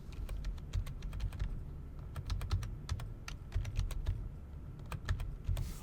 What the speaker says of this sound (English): If I wanted to, I could type that like this.